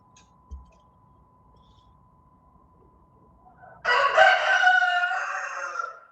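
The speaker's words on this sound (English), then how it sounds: "Sorry, I got chickens." A flock of backyard chickens with a rooster crowing loudly and repeatedly near the microphone, breaking in suddenly after a near-silent stretch with a faint steady hum and lasting to the end.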